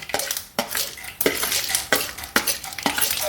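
A spoon scrapes repeatedly around a pan of frying urad dal, about six strokes over a soft sizzle, close and with no talking.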